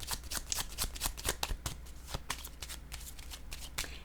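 A deck of cards is shuffled up close, with rapid, dense riffling flutters and soft slaps running continuously at moderate loudness, with no talking.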